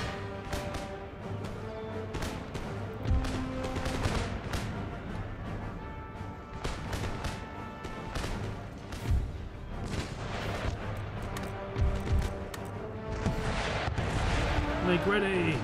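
Artillery and musket fire in Empire Total War: a dense, continuous barrage of booms and crackling shots with heavy low rumble throughout, distant and near volleys overlapping amid battle noise.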